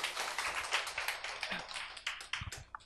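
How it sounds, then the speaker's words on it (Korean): Applause from an audience welcoming a young man onstage, uneven clapping with distinct individual claps and taps, moderately loud and close, fading and picking up again. "우리 이용석군을 박수로 맞이해주세요"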